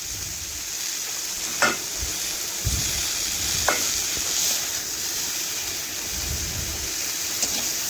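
Pointed gourd (potol) frying in hot oil in a kadai, a steady soft sizzle throughout with a few brief stirring scrapes, close and moderately loud, no talking.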